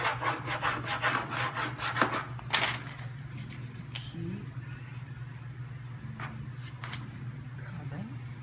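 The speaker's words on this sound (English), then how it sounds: "Give it all a good rub." Paint transfer being rubbed onto a wooden drum table, a steady close scratchy rubbing in quick strokes with a faint hum beneath, a few sharper scrapes and light knocks, no speech.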